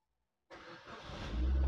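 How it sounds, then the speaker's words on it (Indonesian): A 2007 Suzuki SX4 X-Over engine cranks and catches after a brief silence, then settles into a rising idle, heard up close and loud with no talking. "sambil kita nyalakan mesinnya pemirsa"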